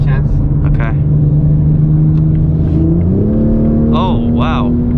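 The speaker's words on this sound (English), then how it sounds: "So now we're on sport mode. Oh, you can hear it sucking in the air." A 2020 Toyota Supra in sport mode accelerates with a loud, steady engine and intake drone that climbs in pitch partway through, while people speak briefly over it.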